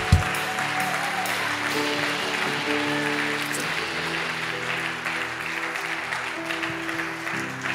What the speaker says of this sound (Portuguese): Você pode dar uma salva de palmas à palavra de Deus?